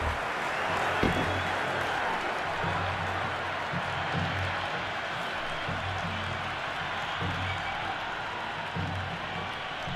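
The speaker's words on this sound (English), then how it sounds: "It's the most enthusiastic crowd you could ever see right now. There's a buzz, a real buzz coming from the stands." Crowd in the stands at a cricket match in the video game Cricket 26, a continuous broad buzz of cheering and applause under a steady wash, with no distinct individual voices standing out.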